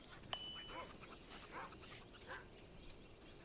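In the Torchlight Frontiers video game, a dog lets out a short bark among faint game effects and low background sounds; the whole scene is quiet.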